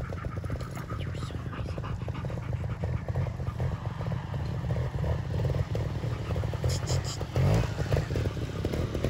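Trial motorcycle riding through a practice section, its engine a steady, moderately loud drone that surges briefly near the end, with faint background noise throughout.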